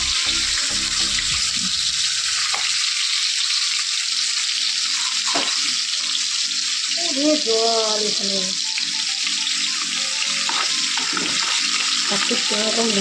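Salted hilsa fish pieces fry in a pan with a steady, loud hissing sizzle that runs throughout, broken by occasional clinks, stirring and a brief faint voice.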